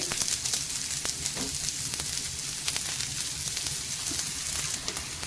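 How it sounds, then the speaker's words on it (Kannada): Leftover-rice vadas fry in hot oil in a pan, giving a steady, close sizzling crackle that runs throughout with small pops and no talking. "ನೋಡಿ ಇಲ್ಲಿ ಈ ಥರ ಫ್ರೈ ಆಗ್ತಾಯಿದೆ"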